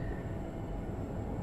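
A steady low rumble of a London Overground train in Train Sim World 4 rolling and slowing under braking, with a faint high whine riding above the continuous mechanical noise.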